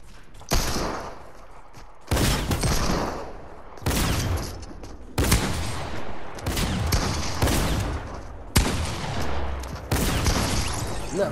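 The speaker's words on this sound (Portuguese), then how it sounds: "lá vem ela com essa metralhadora" Machine gun fire in the video game Fortnite rattles out in a series of loud sustained bursts separated by brief gaps.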